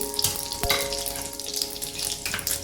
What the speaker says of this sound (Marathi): आता ह्याच्यामध्ये आपण फोडणी घालायची